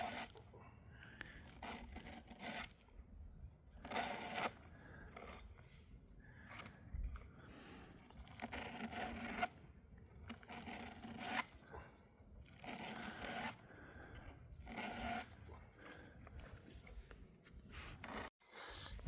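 A hand file rasps across saw teeth while sharpening a saw, in repeated short scraping strokes with pauses between them, close and fairly quiet, with no talking.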